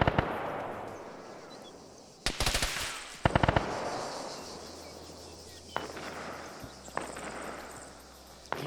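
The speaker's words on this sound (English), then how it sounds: "You can hear the distance, that gunfire." Bursts of machine gun fire in the military shooter Arma crackle at a distance, with two sharp rapid volleys and scattered later shots over faint background ambience.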